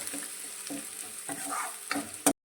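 Chopped onion sautés in a pan over a high gas flame, giving a steady sizzle broken by several rhythmic scraping stirs, close and moderately loud, ending abruptly.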